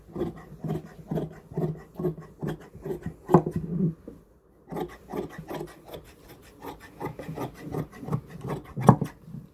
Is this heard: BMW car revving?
no